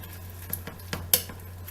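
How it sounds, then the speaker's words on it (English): A spoon stirs vegan picadillo with tomato paste in a pan, giving a few quick scrapes and metallic clinks, including one sharp clatter, over a faint low hum. "Mix everything well."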